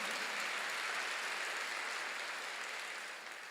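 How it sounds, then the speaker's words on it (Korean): A church congregation applauds during a Sunday sermon, a dense, steady wash of many hands clapping at moderate distance that fades slightly toward the end, with no talking over it. "박수를 하세요."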